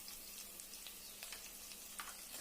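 Onions and curry leaves hitting hot oil with tempering seeds for a tomato curry, a faint, even crackling sizzle with small pops throughout.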